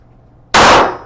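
Single sharp handgun shot from an S&W Equalizer pistol, a loud abrupt crack after near silence, followed by a brief decaying ring.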